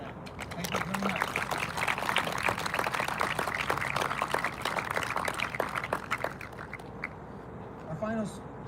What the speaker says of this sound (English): So please, round of applause for them